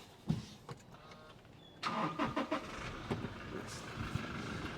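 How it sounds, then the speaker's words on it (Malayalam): A used automatic Toyota Innova Crysta engine cranks and catches in one go, then settles into a smooth idle heard nearby, with a few faint sounds beforehand. "ഞാൻ ഏതായാലും ഒന്ന് സ്റ്റാർട്ട് കൂടി ചെയ്തിട്ട് നമുക്ക് ഇതിൻ്റെ സൗണ്ട് കൂടി ഒന്ന് കേൾപ്പിക്കാം"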